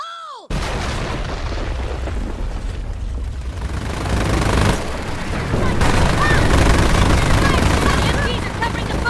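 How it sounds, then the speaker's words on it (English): A demolition charge blows the barbed wire in Company of Heroes, opening on a sharp blast and giving way to sustained rumbling battle noise of heavy gunfire and explosions, loud and continuous with voices mixed in. "Engineers, blow the wire!"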